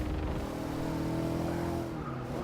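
A race car in Forza Motorsport 6 braking hard into a corner, a steady loud engine drone with tire noise holding for a couple of seconds, no voices.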